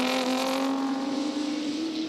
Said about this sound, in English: Oh, by geez, really punishing that Volvo, Francevic.